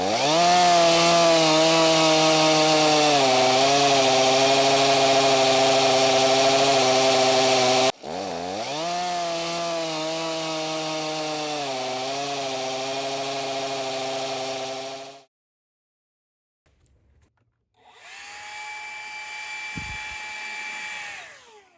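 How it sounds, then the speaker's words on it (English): An Alaskan chainsaw mill cuts a log into boards with a loud, sustained engine roar over two long passes. After a pause, the saw idles and revs up again. "with the rudimentary chainsaw mill, Alaskan chainsaw mill"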